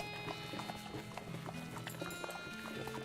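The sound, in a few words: horse whinnying and hooves in the video game West of Loathing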